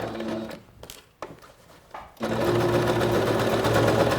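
A SINGER SewMate 5400 sewing machine stitches a side seam, starting and stopping in short bursts before settling into a steady, close, loud whirring run.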